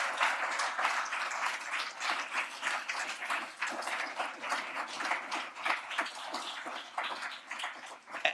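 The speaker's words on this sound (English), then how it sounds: "I think that we can applaud them because they did a great job." An audience at a closing conference session claps for the organizers. The applause is soft and somewhat distant, with many individual claps rattling in a steady wash that fluctuates a little over about eight seconds.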